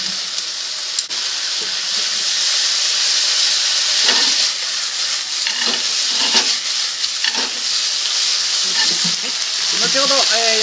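Mixed seasoning sizzles and hisses loudly in a hot pan while making chicken salt yakisoba, a steady bright frying noise with occasional stirring scrapes throughout.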